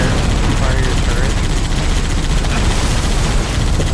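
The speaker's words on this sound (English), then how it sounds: "I love the effect that you get when you fire your turret." A vehicle turret fires in the Halo: The Master Chief Collection shooter game, making a loud, dense, continuous barrage of rapid shots and booms that fills the whole stretch without a break.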